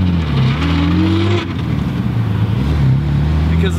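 Classic car with a straight six-cylinder engine driving, loud close engine drone rising in pitch, dipping at a gear change, then climbing again.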